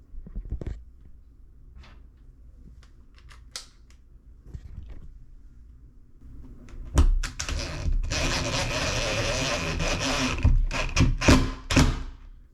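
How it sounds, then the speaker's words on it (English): An impact driver sinks an anchor into drywall, bursts of loud rapid hammering ratchet over several seconds after quieter handling clicks and taps. "I'm gonna take my impact and the anchor, and we're gonna sink it into the drywall."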